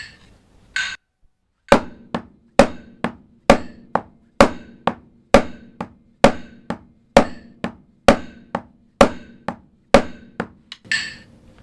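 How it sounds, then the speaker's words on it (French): Metronome in a one-handed rhythm exercise ticking steadily and loudly, alternating a strong accented click with a lighter one, about twenty beats in an even pulse with no talking. "Donc avec le métronome, ça fait comme ça."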